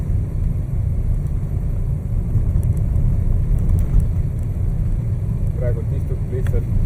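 Inside a moving car, steady low engine and road rumble fills the cabin from the passenger seat, continuous and fairly loud, with faint higher rattles on top.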